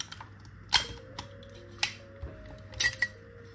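Parts are removed while disassembling an Italian Kimar 75 auto pistol, with a few sharp metallic clicks and light taps spaced irregularly, close up against a quiet background hum.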